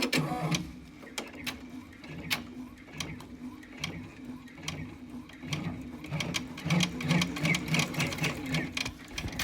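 Embroidery machine stitching an in-the-hoop pleated face mask, a steady rapid mechanical chatter of needle strokes with ticking clicks, close and continuous throughout.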